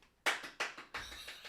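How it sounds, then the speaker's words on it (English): Real hand applause during a podcast episode comes as a brief, close patter of claps in three quick swells. "and then some real applause"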